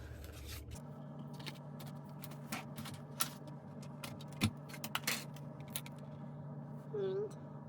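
Scissors cut out a small paper sentiment for an owl-themed accordion fold card, with a scattered series of crisp snips and scrapes over a low, steady hum.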